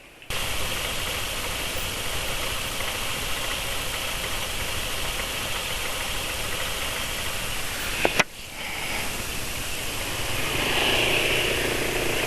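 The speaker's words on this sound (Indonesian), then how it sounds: "Dengar nggak ya tadi yang kemelotak suara mesin itu?" A motorcycle engine idles steadily with a rattling, knocking engine noise underneath, close and constant, broken by a brief clunk near the end.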